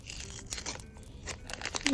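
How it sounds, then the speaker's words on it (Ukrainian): Paper crinkles and tears briefly as a Kinder Harry Potter collection paper surprise packet is opened, close and fairly quiet, with a little soft talk mixed in. "Відкриваємо наш пакетик."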